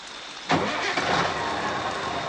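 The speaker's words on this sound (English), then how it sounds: "The wheels turned and the engine roared." A truck engine catches abruptly and then roars at a steady high rev, loud and close, with a brief surge near the start and no voices.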